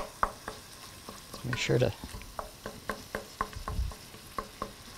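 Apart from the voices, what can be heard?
vegetables sauteing in a pan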